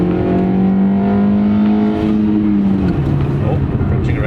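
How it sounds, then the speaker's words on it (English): Engine of a slow 115 hp Golf pulling hard in second gear from 60 in a VR racing game, a steady loud drone rising in pitch, dipping briefly near the end as revs shift, with speech underneath. "Here, we'll do a little pull, second gear pull from 60."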